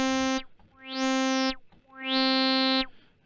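Resonant modular synth filter swept by an envelope, three sustained buzzy notes, each opening into a bright, harmonic-rich tone before closing again, with a gritty, distorted edge and short gaps between notes.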